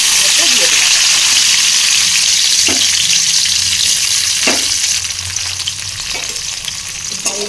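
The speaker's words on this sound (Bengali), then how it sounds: "আর এগুলোকে একটু লাল লাল করে ভেজে নেব।" Cashews and raisins fry in hot ghee and a little oil, giving a loud, steady broadband sizzle throughout with a few brief clinks of stirring.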